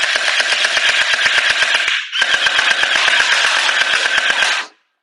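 A TOYAPY Scorpion submachine gel ball blaster fires in rapid full-auto bursts, a steady stream of sharp clicking shots that pauses briefly near the middle and then runs on for several more seconds before stopping.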